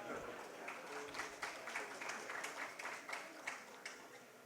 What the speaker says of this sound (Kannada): ಏನು ಅವ್ರಿಗೆ ಮಾತ್ರ ಚಪ್ಪಾಳೆ ತಡ್ತೀರಿ?